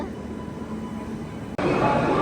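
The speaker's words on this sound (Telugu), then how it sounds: "అదే ప్లాట్ఫామ్ మీదకి ఇంకొక బండి అయితే వచ్చేస్తుంది." A locomotive pulls in on the same platform at Itarsi Junction station, a steady low rail rumble that grows suddenly louder and closer partway through, with no speech.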